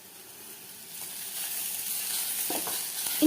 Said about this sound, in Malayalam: ഇനി ഇതെല്ലാം കൂടെ ഒന്ന് വഴറ്റിയെടുക്കുക